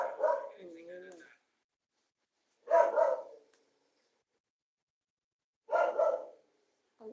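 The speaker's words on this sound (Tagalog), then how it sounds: "Nag-aaway na naman yung aso namin." Dogs fighting and barking in a household: three separate bursts of loud, close snarling barks and yips, each about a second long, separated by stretches of silence.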